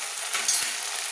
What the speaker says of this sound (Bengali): ভালো করে আমি তেলে কষিয়ে নিচ্ছি